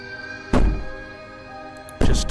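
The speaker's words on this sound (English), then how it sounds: "Maybe the banging and wailing will stop if you just don't pay attention to it." Two heavy, dull bangs on a door in the game Slay the Princess, spaced about a second and a half apart, each a loud close thud with a short fade, and quiet between them.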